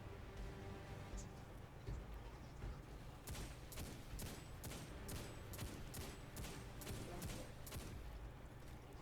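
Destiny boss fires bursts of rapid gunfire in a regular rhythm of sharp cracks over a dense, continuous game soundscape of rumble and effects.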